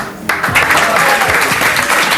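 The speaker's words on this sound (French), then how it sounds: "On applaudit." A studio audience on a French late-night music talk show bursts into loud, dense applause that starts abruptly and holds steady throughout.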